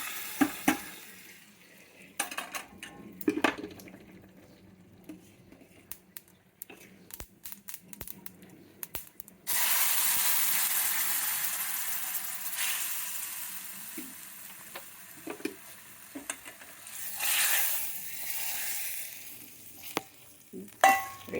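Lentils and seeds fry in hot oil in a kadai, with scattered clicks and stirring at first, then a sudden strong hiss that keeps going steadily and swells again near the end.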